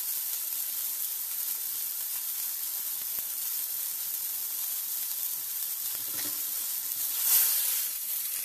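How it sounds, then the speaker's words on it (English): Cod fillet pan-frying in a hot pan gives a steady, close sizzle and hiss that runs throughout, swelling briefly louder near the end. "One pan fried cod in less than 10 minutes."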